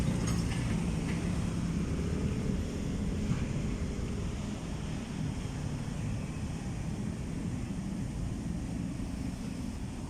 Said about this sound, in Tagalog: Yan, malakas ang ulan.